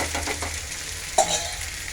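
Vegetable curry with potato, pointed gourd, paneer and cashews being stirred with a splash of water in a hot pan, a steady soft sizzle with scraping stir strokes and one sharper clink near the middle.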